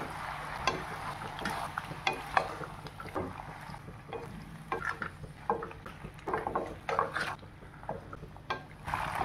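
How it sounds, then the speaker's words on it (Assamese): A spoon stirring pasta with soy sauce, tomato sauce and a little potato powder in a pan, giving soft repeated scraping and wet clicking strokes that stay faint and steady. "এতিয়া ভালকৈ এইখিনি মিক্স কৰি দিওঁ"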